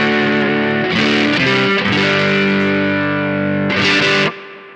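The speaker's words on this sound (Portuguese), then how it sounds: "Quando eu ligo o preamp, a gente começa a ter a reação de um amplificador, um preamp de um amplificador, ele distorce." An electric guitar played through a modded Boss DS-1 distortion pedal with its preamp engaged gives loud, saturated sustained chords that shift a few times, with a sharp strummed accent near the end before the sound cuts off.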